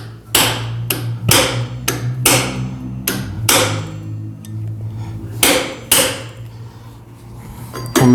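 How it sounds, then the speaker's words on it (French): A rubber mallet taps a Bafang mid-drive motor into place on a bicycle frame, giving about a dozen loud, dull blows in an uneven rhythm over a low background hum, with no talking. "Le marteau caoutchouc, bien sûr."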